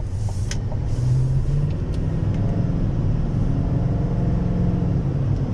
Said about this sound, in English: We'll do some acceleration up here, see what kind of speed we can get going.